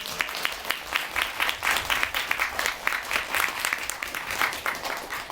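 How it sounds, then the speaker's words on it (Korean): Sustained applause from a crowd, dense and steady clapping that fills the whole stretch without letting up. "다시 한번 좀 큰 박수를 보내주세요."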